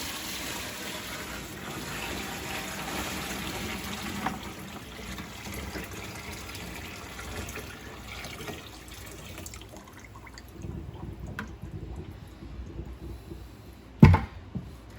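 Five gallons of water poured from a bucket into the front live well of an old Ranger boat, a steady splashing fill that runs on and tapers off, ending with a brief knock.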